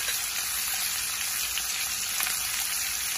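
A steak sears in a hot pan, giving a dense, even hiss and crackle of sizzling fat that runs unbroken and fairly loud the whole time, close to the ear and with no talk.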